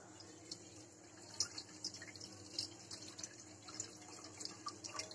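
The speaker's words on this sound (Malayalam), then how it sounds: "ആ പുളി നന്നായി കഴുകി അതിൻ്റെ വെള്ളം നമുക്കിങ്ങനെ എടുക്കാം." Tamarind being washed and squeezed in water in a kitchen, soft splashing and dripping with small liquid sloshes, quiet and close, no talking.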